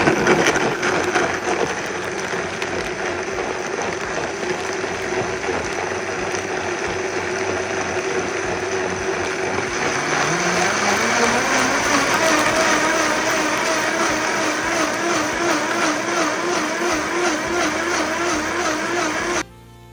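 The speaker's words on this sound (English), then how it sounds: "And we're gonna blend." A blender whirs steadily as it purées oranges, lemon, mint, parsley and ginger into green juice, a loud continuous motor drone whose pitch shifts partway through as the contents loosen, then cuts off abruptly at the end.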